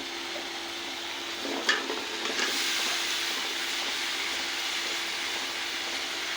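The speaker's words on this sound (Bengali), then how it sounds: "আমি তরকারিটা দিয়ে দিচ্ছি, এখন আমি একটু নাড়া দিব।" Chopped vegetables hit a hot pan with a sudden sizzle, then fry with a steady hiss while being stirred, close and moderately loud, with no voices.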